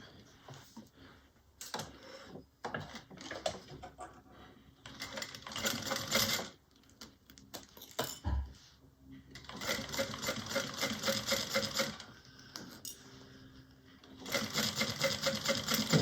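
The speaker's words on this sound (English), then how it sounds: "we're going to top stitch on each side 1/8 of an inch" A sewing machine top stitching along both edges of a fabric strap, running in several stop-start stretches of steady mechanical whirring and clatter, fairly quiet and close, with short pauses and a brief thump between runs.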